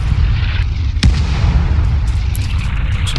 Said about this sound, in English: You heard that artillery fire,